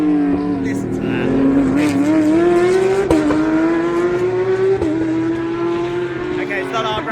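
A Mercedes-AMG GT4 race car screams around the Portimao circuit in the Algarve, its engine a loud, steady high-revving whine that climbs through gears with brief shift dips, heard close from inside the cockpit.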